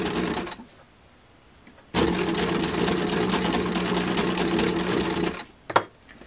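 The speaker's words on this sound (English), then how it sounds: "So you just finish sewing all the way across." Sewing machine stitching gathers across fabric for an apron, a loud steady mechanical whir running several seconds after a short quiet start, then stopping with a brief clunk near the end.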